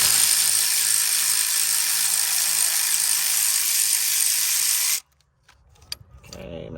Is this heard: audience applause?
no